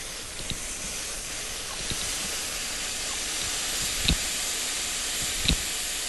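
Compressed air hisses steadily out of a sprinkler valve during a system blowout, a constant spraying rush broken by a few brief clicks and knocks.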